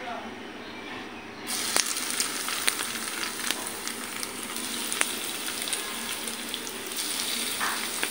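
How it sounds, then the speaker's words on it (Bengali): Chicken fingers frying in oil over medium-low heat, a steady dense sizzle that swells louder after the first second and holds, with small pops and crackles throughout and no speech. "এখন আমি চিকেন ফিঙ্গারগুলো ভাজতে দিয়ে দিব।"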